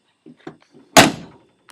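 The door of a 1988 Chevy K30 truck, recently straightened, is swung shut with a single solid slam. A few faint clicks and knocks come first, and the thud rings briefly as it decays.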